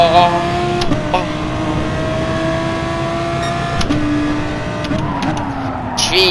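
Audi race car engine in Gran Turismo Sport, a steady high-revving drone with shifting pitch, a few gear changes and faint tire noise, loud and close throughout.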